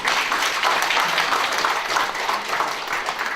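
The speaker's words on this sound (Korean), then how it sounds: "박수로 맞이해주세요." Applause from an audience welcoming guests at a life-respect declaration ceremony, continuous and fairly loud, a dense wash of clapping with no break and no speech over it.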